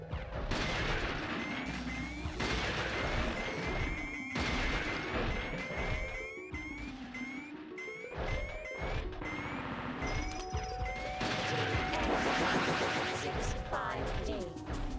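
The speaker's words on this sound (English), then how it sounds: "Standard cannon." Cannon fire crashes out repeatedly in the horror video game Epidemic, heavy blasts layered over dense, droning game music and electronic effects throughout.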